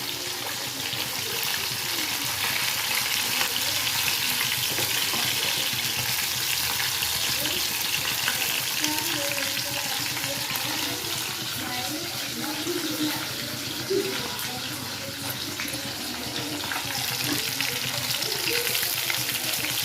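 Semolina-coated mackerel frying in hot oil: a continuous close bubbling sizzle lasting throughout, with someone speaking over it.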